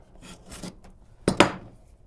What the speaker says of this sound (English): when we sand, we produce a lot of heat